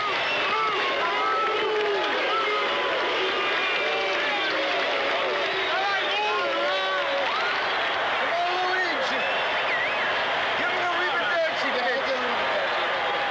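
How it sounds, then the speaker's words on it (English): A partisan crowd at the 1978 World Series between the New York Yankees and Los Angeles Dodgers chants for Lou Piniella, a sustained roar of many voices with rising and falling chant-like swells throughout. "the partisan crowd pleads, Lou, Lou, Lou"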